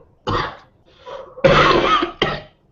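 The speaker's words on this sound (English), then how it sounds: "All of us are having cough" Three bursts of harsh coughing close to the mic, the middle one longer and raspier, separated by short pauses.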